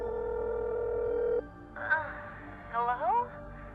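A phone call in the video game Technobabylon: a steady electronic dial tone holds for over a second, then short synthetic chirps and rising bleeps follow, clear and moderately loud.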